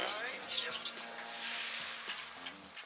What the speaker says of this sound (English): Miss Joe has been frying eggs and listening to the guy's gab